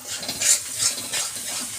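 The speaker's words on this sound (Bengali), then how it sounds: "মশলাটা খুব সুন্দরভাবে কষানো হয়ে এসেছে। সাইডে তেল ছেড়ে গেছে" Spice paste for katla rezala frying in oil, a steady close sizzle with soft stirring scrapes that swell and fade rhythmically, heard alone.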